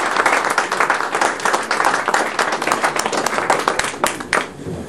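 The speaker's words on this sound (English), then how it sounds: "if you don't mind giving up a round of applause for Hoyt and the team here" A large audience at a post-election 2008 keynote gives sustained, loud applause for Hoyt and the team, with dense overlapping claps throughout that thin slightly at the end.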